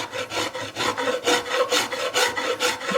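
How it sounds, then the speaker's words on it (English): A hand file rasps against a wooden guitar fretboard during shaping, a steady back-and-forth scraping in even strokes about every third of a second, close and alone. "just using a file"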